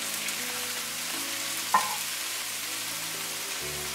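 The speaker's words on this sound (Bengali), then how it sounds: "এখন আমি শাকগুলো ঢেলে দিয়ে দেব।" Koloi greens frying with onion and garlic in a pan over medium-low heat, a steady hiss of oil with one sharp clink partway through and a low hum underneath.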